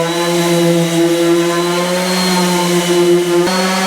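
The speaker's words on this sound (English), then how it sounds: "I'm going to do that with 80 grit sandpaper on my oscillating sander" An oscillating sander fitted with 80 grit sandpaper runs on wood with a steady, loud motor whine and a faint rasping buzz, continuous throughout with a brief bump near the end.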